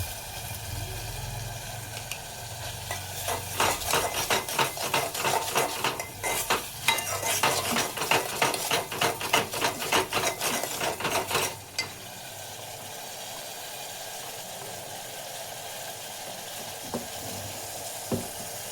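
Garlic and spice paste frying in a pan for a coriander leaf pickle, stirred with a metal spoon in rapid rhythmic scrapes and clinks over a steady sizzle, the scraping stopping midway and leaving the sizzle alone.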